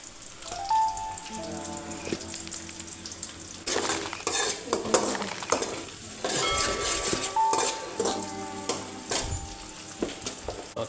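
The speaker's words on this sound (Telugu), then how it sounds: "ఆనియన్స్ ఎర్ర అయినాక పసుపు వేసుకోవాలి పసుపు వేసుకొని" Onions sizzle and fry steadily in a pan after turmeric goes in, for a chicken curry with lemon, while a spoon stirs and scrapes the pan in clatters and the sizzle swells in bursts, close and continuous with no voices.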